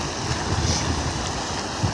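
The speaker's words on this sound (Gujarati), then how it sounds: "બંધ ઉપરથી એટલું પાણી પડે ને અહીંયાથી એટલું પાણી જાય છે" Heavy rush of floodwater pouring over a full dam during heavy rain, a steady broadband roar that stays loud and close throughout without letup.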